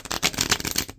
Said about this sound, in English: Let's give them a couple shuffles here